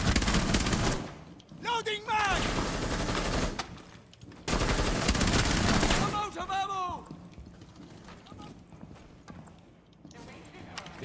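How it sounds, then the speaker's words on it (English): Rainbow Six Siege gameplay carries two long, loud bursts of rapid automatic gunfire separated by quieter stretches, with voices talking over and between the shots. "You need to fire in shorter bursts."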